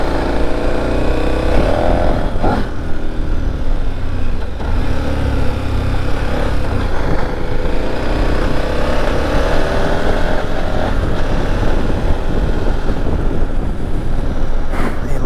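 A KTM 1290 motorcycle rides with a steady, loud engine drone throughout, with heavy wind buffeting on the microphone and occasional shifts in engine pitch.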